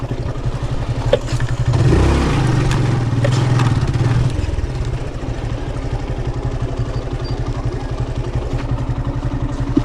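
A motorcycle engine runs close by, idling with a steady rumble and surging briefly in a rev before settling back to a constant drone.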